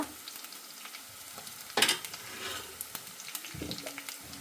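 Shallots frying in a pan as a slit green chili is dropped in, a soft sizzle with a sharp crackling burst when it lands, followed by faint stirring clicks and scrapes.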